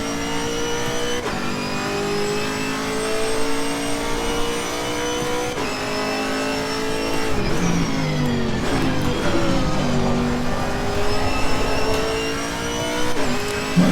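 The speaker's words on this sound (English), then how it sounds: "Hold on to 5th gear. Tops out at 258. So definitely got to go to 6th gear." A Chevrolet Camaro GT4 race car lapping Bathurst in Assetto Corsa Competizione, its engine droning loud and steady as it climbs in pitch through the gears, with abrupt shift drops and a rough burst mid-run.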